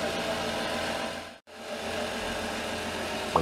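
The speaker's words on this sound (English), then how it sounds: "Compressor running. Putting some air in the tyre so we can move it." An air compressor inflating a car tyre hums steadily at close range, cutting out briefly midway before resuming its continuous drone.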